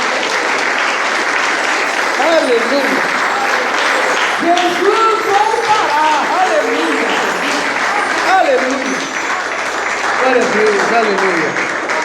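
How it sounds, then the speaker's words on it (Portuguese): Church congregation applauding during a Portuguese-language sermon, steady dense clapping throughout while voices shout and sing praises over it, loud and close. "Você pode aplaudir a Ele por isso?"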